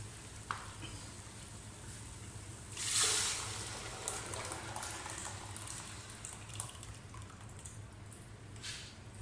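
Ground dal goes into sizzling haleem masala in the pot, sending up a short, louder burst of frying hiss that settles into a quieter, steady sizzle with occasional small pops and stirring sounds.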